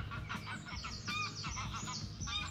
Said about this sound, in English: Whole gaggle of Canada geese taking off, actually